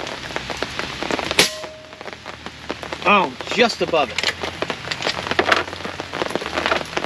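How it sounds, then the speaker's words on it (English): Steady heavy rain patters on surfaces close by during outdoor airgun shooting with an AGT Vulcan 3, with a sharp crack partway through and someone speaking briefly over the downpour. "Shooting better than I thought in the rain."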